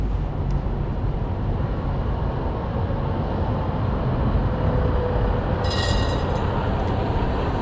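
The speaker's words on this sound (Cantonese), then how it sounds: "最多人搭嗰部啊，懷舊電車。" A vintage tram rolls through Budapest with a steady, loud rumble and rattle of wheels on rails, close by and continuous, with a brief high squeal near the end.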